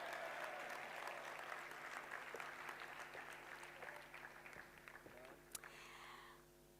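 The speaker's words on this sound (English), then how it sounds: "I think she deserves a round of applause" Applause at the closing ceremony of the 4th South Africa Investment Conference: sustained clapping from a large hall audience that gradually thins and fades, with a low steady hum beneath and a brief voice near the end.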